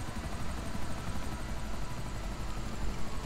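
A smoking, damaged helicopter in GTA V keeps up a loud, constant rotor thump and engine roar, close and steady, with no talking.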